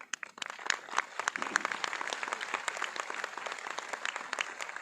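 Steady audience applause from a seated crowd at a business seminar, dense overlapping claps with a few sharp individual slaps standing out, sustained at moderate level for the whole stretch.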